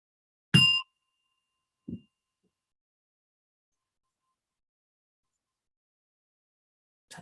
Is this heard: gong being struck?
yes